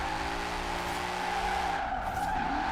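A car slides through a drift in Forza Horizon, tires squealing continuously over a steady engine drone, loud and close throughout.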